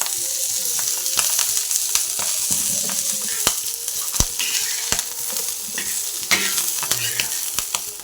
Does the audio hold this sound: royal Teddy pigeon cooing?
no